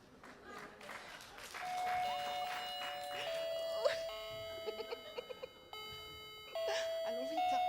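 A doorbell rings repeatedly in a stage play, with chiming tones sounding several times in a short sequence, fairly loud and clear against faint room noise.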